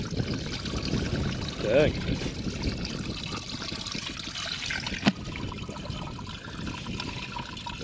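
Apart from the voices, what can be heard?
running water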